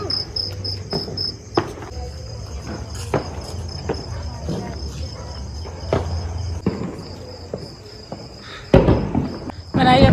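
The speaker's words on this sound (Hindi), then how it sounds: "जैसे फिल्मों में झींगुर बोलता है ना रात में, चू चू चू चू, ऐसे आवाज़ आ रही थी।" Crickets chirp at night outside a house, a steady high-pitched trill running throughout, with scattered knocks and footstep-like sounds and a louder burst of noise near the end.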